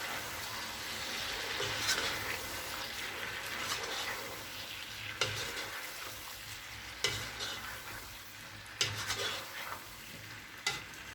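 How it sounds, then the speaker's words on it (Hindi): Peas, chopped vegetables and chillies stirred and frying in a pan for vegetable pulao, a steady sizzle throughout with a few sharper scraping knocks of the spoon toward the end. "अब इसमें मटर डाल देंगे, कटी हुई सब्ज़ मिर्च, इन्हें अच्छे से मिक्स कर लेंगे।"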